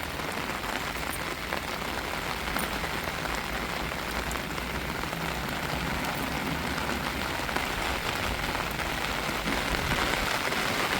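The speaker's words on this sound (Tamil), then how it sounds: "மழை தூவிக்கிட்டு தாங்க இருக்குது" Light rain patters steadily and softly, a continuous gentle hiss of drizzle with no voices.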